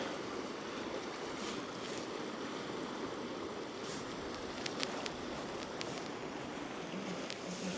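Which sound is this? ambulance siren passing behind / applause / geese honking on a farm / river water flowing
river water flowing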